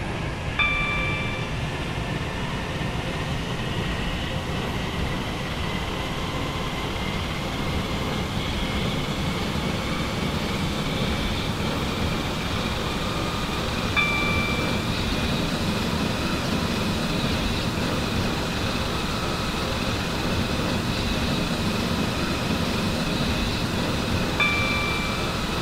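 A Class 385/1 electric train runs along in the Roblox game Stepford County Railway, with a continuous loud rumble and a rising whine of traction motors, plus faint tonal beeps at intervals.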